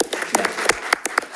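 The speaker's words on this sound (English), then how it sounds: "let's give her a round of applause" A school district board meeting audience claps to welcome a new Chief Financial and Transportation Officer. Sharp, close hand claps come in a quick, uneven burst.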